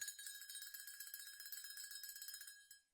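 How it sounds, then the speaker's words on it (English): A small bell is rung repeatedly in quick succession, bright metallic ringing close and steady for nearly three seconds before cutting off, with no voices. "And notice when I ring the bell"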